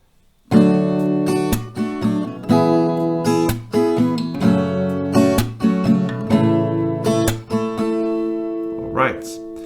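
An acoustic guitar strums one round of a chord progression in a regular down-up pattern. Bright, ringing chords follow each other with crisp, evenly spaced strokes, close and clear with no voice over them.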